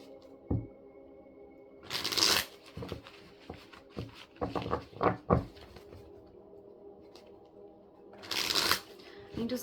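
A deck of oracle cards being shuffled close up, with two brisk riffling bursts framing a series of soft card taps and slaps. Some faint speech sits in the background.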